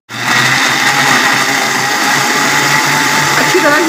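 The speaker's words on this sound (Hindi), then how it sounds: "अच्छी तरह ये केलों को मैंने ग्राइंड कर लिया।" A kitchen blender grinds bananas with milk, starting abruptly and running at a steady, loud, continuous whir close by with a slight rise in pitch near the end.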